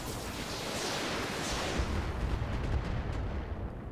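Short-range missiles launched from a mech in a video game, a dense roaring barrage of rushing blasts and booms that swells and rumbles continuously without pause.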